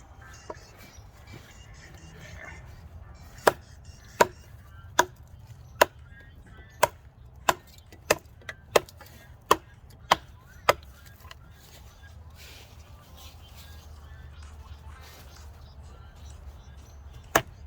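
A dozen or so sharp, loud wood-chopping strikes from a Bark River Bravo 2 knife land in an uneven rhythm, clustered in the middle, with faint background noise and a last lone strike near the end.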